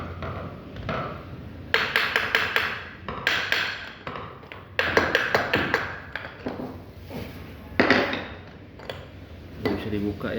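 Sharp metallic taps and knocks on a Honda Brio rack steer component, a series of irregular bursts of close, ringing impacts with short pauses between them, sounding like hammering on a metal steering rack part.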